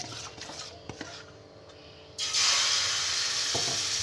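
Batter poured into a lightly oiled pan for sorchakli pitha bursts into a loud, steady sizzle partway through, after a quieter stretch of faint kitchen clatter and soft taps.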